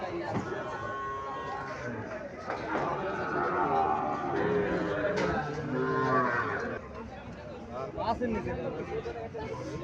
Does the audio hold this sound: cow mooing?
yes